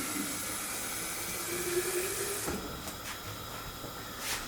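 Water runs steadily from a tap over rice grains for a biryani with summer squash and leafy greens, a continuous hissing wash that eases off midway, leaving faint clinks and drips.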